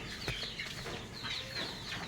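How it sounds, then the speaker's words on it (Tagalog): Dekalb Brown laying hens cluck steadily over a constant farmyard hum, several birds close by making short overlapping calls. "Yung ating mga manok."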